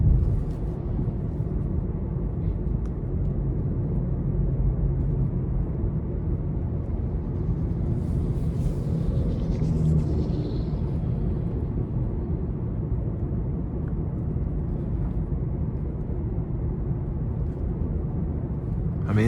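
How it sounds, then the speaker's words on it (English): Interior of a 2026 Nissan Sentra SV compact car on a test drive: a steady low engine and road drone stays quiet and constant throughout, with no talking. "And I can hear the engine just barely, but overall it's very quiet in here for this to be a compact car."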